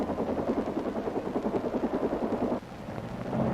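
An overloaded military helicopter struggles to lift off during the 1972 Battle of An Loc, its rotor thumping in a loud, rapid, steady beat with engine roar, then a slight drop in tone near the end.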